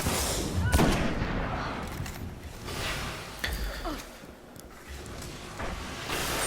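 Bursts of sniper and rifle fire sound in a Crucible Control match in Destiny, repeated sharp cracks over a dense, noisy battle background, with some distant shots.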